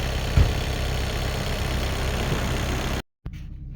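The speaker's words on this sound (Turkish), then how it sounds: "Bakın motorun sesi bu şekilde oluyor." A Skoda Superb car engine idles with a steady low rumble after particulate filter cleaning, briefly cutting out near the end before resuming.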